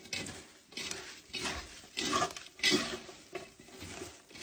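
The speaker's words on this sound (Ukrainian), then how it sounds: "Все гарно перемішуємо." A salad dressed with vinegar, sugar and salt being stirred in a bowl, soft rhythmic scraping and moist rustling in repeated strokes, close and fairly quiet with no talking.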